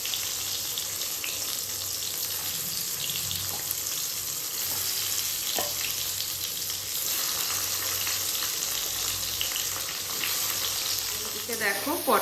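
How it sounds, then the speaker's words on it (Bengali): Pointed gourd (potol) fries in a pan with a steady, dense sizzle that runs throughout, with faint stirring scrapes and a brief clatter near the end. "ফার্স্টে পটলটাকে ভেজে নেবো"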